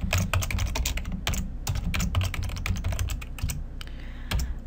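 Fast, steady typing on a computer keyboard, dense close key clicks running throughout with brief pauses, over a low background hum.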